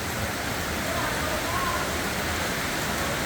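Heavy rain pours steadily onto a flooded Manila street as a dense, even hiss with no pauses, close and fairly loud throughout.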